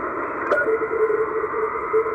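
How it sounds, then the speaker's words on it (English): A radio teletype signal on the shortwave band hums from the radio as a steady shifting tone over a bed of static hiss, faint and continuous. "And some radio teletype and a Stan egg."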